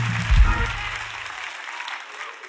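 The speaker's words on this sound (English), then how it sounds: "Clap your hands if you're a page turner." A church congregation bursts into a short round of hand clapping, a loud dense burst that quickly fades out within a couple of seconds.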